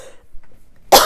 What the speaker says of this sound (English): I don't want to cough too loud into it